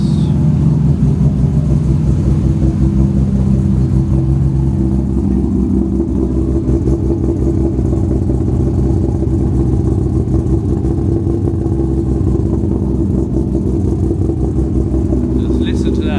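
A Nissan R34 GTR fitted with a new trigger kit idles with a deep, steady, loud rumble that shifts slightly in pitch, with people talking over it.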